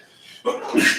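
A single short, close sneeze bursts out in a classroom during a genetics lecture, preceded by a faint intake of breath.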